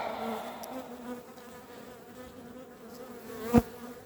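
A honey bee colony at the hive, recently requeened with a virgin queen, gives a steady close buzz with droning wings passing near, and one brief louder bump near the end.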